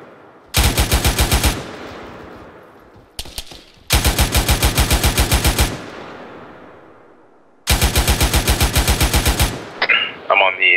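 Loud, close automatic gunfire in an ARMA 3 infantry firefight comes in three long rapid bursts with short gaps between them, and a voice speaks briefly at the end.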